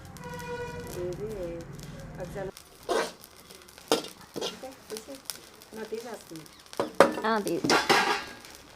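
Cumin seeds roast in a pan while a utensil stirs and scrapes, giving scattered clinks and scratchy strokes with faint sizzling, partly under a voice.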